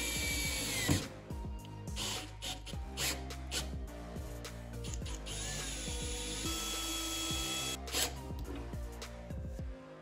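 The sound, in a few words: driving screws into board for floating shelf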